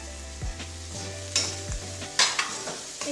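Mutton with red chilli powder and cumin powder fries and is stirred in a pan, with steady sizzling broken by several loud, scraping stirs of a spoon against the pan.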